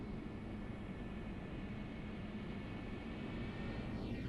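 A Concorde in the Prepar3D flight simulator touches down on landing, giving a loud, steady roar of jet engines and rushing air that runs throughout without any distinct impact.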